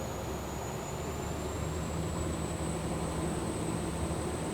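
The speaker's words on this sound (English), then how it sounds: "Just hearing the sound of the turbines" Turbine engines on an OTAM 58 GTS performance yacht rise in pitch as the boat accelerates, a loud continuous broadband roar with a high whine that climbs steadily.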